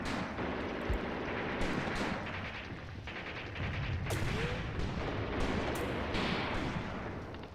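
Dense, continuous battle gunfire from the tank and infantry war game Graviteam Tactics: Mius Front, with rapid shots and bursts layered over a constant rumbling din, loud and unbroken throughout.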